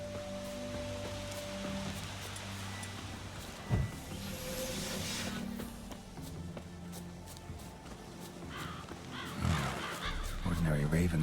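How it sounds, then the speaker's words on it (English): Ravens caw in The Witcher 3: Wild Hunt, a few harsh calls rising over steady outdoor game ambience with wind and rustling. A louder thump lands midway, and a closer burst of bird noise comes near the end. "Ordinary ravens looks like."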